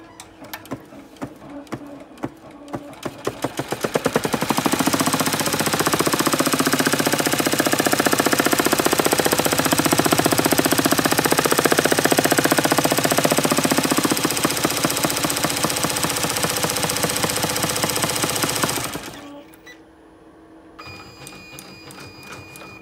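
Embroidery machine stitching an outline onto medium weight tearaway stabilizer, a loud steady rapid mechanical chatter that starts after a few seconds and runs about fourteen seconds before stopping, with quieter handling sounds around it.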